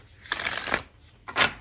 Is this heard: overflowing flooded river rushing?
no